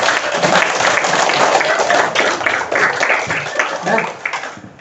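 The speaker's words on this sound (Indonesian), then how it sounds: "tepuk tangan dulu buat semuanya" Classroom applause from students clapping together for a group presentation, a continuous fairly loud patter of hands with a voice or two mixed in underneath.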